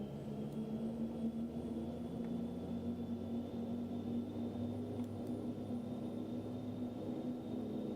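A PT6A turboprop engine in the X-Plane 10 flight simulator drones steadily with a constant whine over a low rumble, loud and continuous throughout, with no clear rise in pitch or volume.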